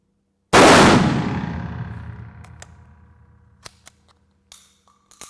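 A single loud, sharp blast from a Taurus Judge Home Defender revolver firing a Remington 3-inch .410 shell at seven yards on a range, ringing out and decaying over a few seconds, followed by a few faint clicks and clinks.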